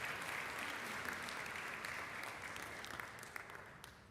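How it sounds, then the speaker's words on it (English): Audience applause at an engineering symposium, a steady wash of clapping heard at a moderate distance that gradually thins toward the end. "let's all give them a massive round of applause as we appreciate their contribution"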